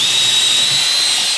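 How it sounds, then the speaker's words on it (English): A power drill fitted with a 4mm bit bores a hole through a workpiece for a laundry basket stand, giving a steady, loud, high motor whine that runs alone for over a second before spinning down. "I have a 4mm drill bit here. Flick that over to drill. There we go, and it's going to drill a hole through there."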